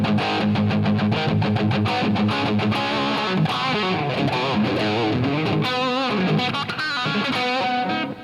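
Electric guitar played through a distortion effect on a Line 6 Helix multi-effects unit, a dense, loud, saturated tone with strummed chords and melodic runs sustained continuously throughout.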